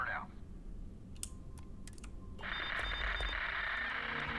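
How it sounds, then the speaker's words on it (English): Electronic beeping and clicking from a sci-fi video game interface, with short tonal blips and clicks followed by a steady, brighter electronic tone that holds to the end, fairly quiet overall. "Beeping and clicking."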